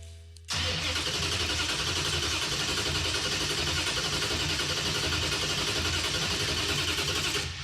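A 426 Hemi V8 in a 1975 Gremlin cranking over on the starter, a loud, steady rhythmic churning that begins abruptly and holds continuously without catching.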